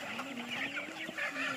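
A chicken clucks close by on a farm, a run of short repeated calls over a soft steady background, no talk.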